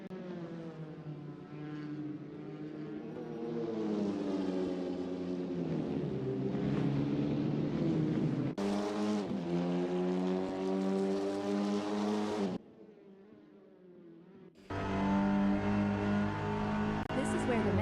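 Touring car in a racing video game on a track through Virage de la Chapelle: a steady, loud engine drone with rising revs and gear changes, briefly cutting out before resuming at full volume.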